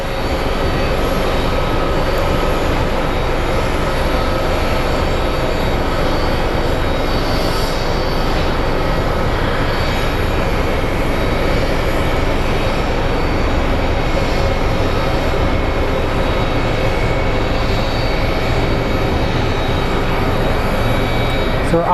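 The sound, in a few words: regional jet pushing back at Phoenix Sky Harbor airport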